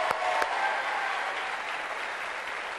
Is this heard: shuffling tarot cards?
no